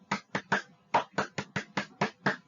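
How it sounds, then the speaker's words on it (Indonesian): Single person clapping hands ten times in an even, moderate rhythm, close and clear against silence. "Kemudian yang kelima ada bunyi tepuk tangan."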